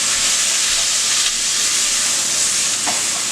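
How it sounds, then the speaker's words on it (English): Sofrito of tomato-based sauce sizzles in a hot pan on the stove, a steady loud hiss and crackle throughout with no talking. "Turn down my heat just a little bit because it's sizzling a little bit too much."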